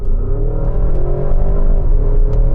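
A Porsche Cayenne Turbo GT engine revs hard and accelerates, a loud, steady mechanical roar that climbs gradually in pitch over a few seconds.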